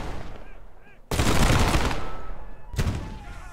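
Cannon fire in the musket-era battle game Prime & Load 1776: a single loud, sharp boom bursts in and rings out, followed by a second heavy blast moments later, with faint distant gunfire before.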